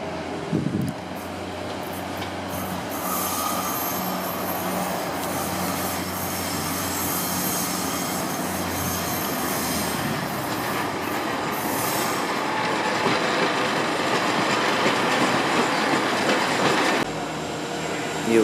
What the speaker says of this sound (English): Here we have the Intercity now leaving platform 2 at last, heading for the direction of Swansea.